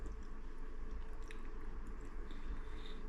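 Close, fairly quiet chewing of crunchy chips loaded with cheese gravy, with soft moist crunches and squishy bites over a low background hum and no speech.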